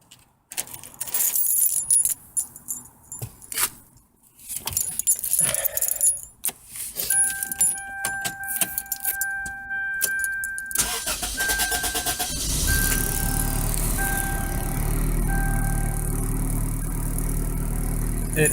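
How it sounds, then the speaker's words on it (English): A car engine starts after its throttle body and air intake are cleaned, preceded by jangling keys and clicks, then cranks and catches into a steady idle that hesitates briefly before settling. "Let's start the car up."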